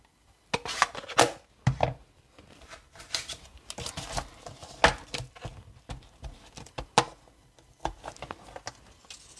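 Paper trimmed to size during a stamping and decorative stencil craft session, heard as a run of close, crisp snipping and rustling cuts in an irregular rhythm, with no talking.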